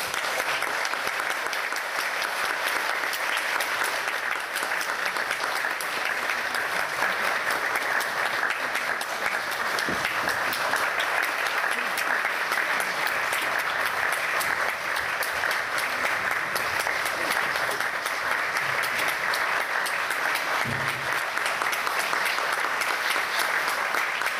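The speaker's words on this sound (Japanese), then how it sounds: "皆様、拍手を持って" Sustained applause from an audience at a public debate for the Niiza city mayoral election, steady and dense clapping filling the whole stretch without letting up.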